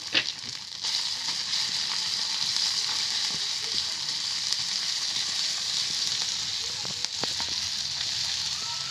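Ginger, coriander leaves, turmeric and chilli powder sizzle steadily as they fry and get stirred in a pan for a cauliflower-potato curry, a constant close hiss with occasional spoon scrapes.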